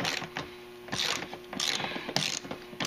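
Ratchet clicks in short bursts as funky shouldered bolts are tightened into the floorboard of an Eagle Craft Verano 150 scooter, several close, fairly loud rounds of rapid clicking with brief pauses between, no talking.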